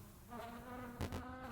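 A housefly buzzes with a steady droning whine in a horror video game, faint but continuous, swelling briefly partway through as it flies past. No one speaks.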